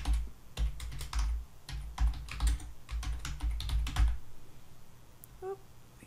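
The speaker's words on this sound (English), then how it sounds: "So I'll come back here, type source, Kate." Close, fast bursts of computer keyboard typing in uneven clusters with brief pauses, stopping near the end before a faint tone, with no voices.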